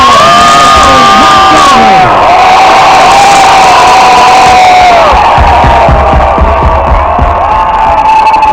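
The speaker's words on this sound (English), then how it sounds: "How about a Ravens round of applause?" Large crowd at a Baltimore Ravens pep rally cheering and whooping loudly, a sustained roar of voices with shouts rising over it, continuous throughout.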